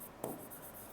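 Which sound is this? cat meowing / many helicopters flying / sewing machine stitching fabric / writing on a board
writing on a board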